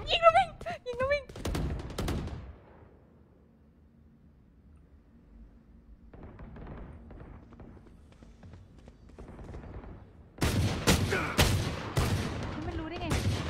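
Video game gunfire crackles in rapid bursts at the start, fades to quieter scattered shots in the middle, then erupts again in loud, dense volleys near the end, with a voice speaking at times.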